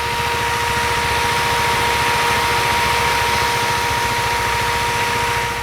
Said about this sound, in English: The motorcycle now sounds much better than before.